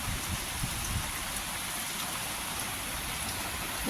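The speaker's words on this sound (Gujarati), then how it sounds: "વરસાદ બંધ થવાનું નામ નથી લેતો અને એટલું સૂટ પાણી આવે." Steady rain pours down in a constant, even hiss, dense and unbroken for the whole stretch, with no voices.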